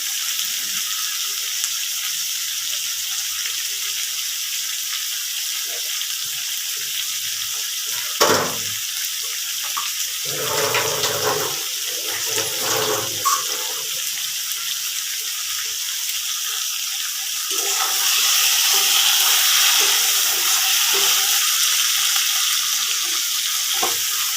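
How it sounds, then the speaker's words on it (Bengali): Dried loitta fish, soaked earlier in hot water, is stir-fried slowly with masala. A steady hiss of frying runs the whole way, with a few stirring scrapes in the middle and a louder sizzle near the end. "মাছগুলো দিয়ে আস্তে আস্তে আমি কষিয়ে নিচ্ছি"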